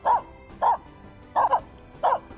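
A Finnish Spitz barks outdoors in a forest setting, four short, sharp, loud barks spaced about half a second apart, close to the listener and alone without talk.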